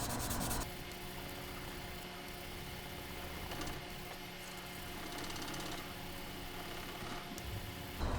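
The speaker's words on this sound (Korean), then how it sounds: "이 자국이 없어질 때까지 문지릅니다" Sandpaper rubs steadily over a plastic model kit surface to level out sink marks, a continuous close scraping with subtle stroke-to-stroke surges over several seconds.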